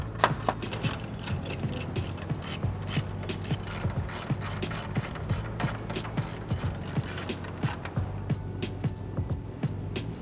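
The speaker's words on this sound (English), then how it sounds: "Next step, we're going to remove the grill. We have 1, 2, 3, 4 10mm bolts." Ratchet clicking in quick repeated bursts while 10mm bolts come out of the grille on a 2009-2018 Dodge Ram pickup, steady and close with no talk.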